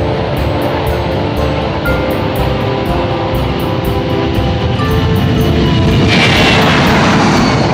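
Steady, loud broadband roar of a C-17 military transport aircraft in flight on a long-haul RAF route to the Middle East, heard from inside as a continuous engine drone with no talking.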